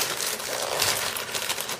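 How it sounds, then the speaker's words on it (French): Close, continuous crinkling of paper, a dense crackly rustle that stays steady for the whole moment. "Excusez-moi pour le bruit du papier."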